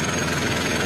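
Swaraj tractor engine idling close by, a loud, steady diesel rumble with a low knocking pulse and no voices.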